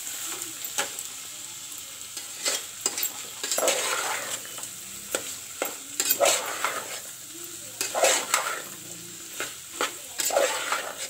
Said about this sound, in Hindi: पियाज को भल से फ्राई करिवा।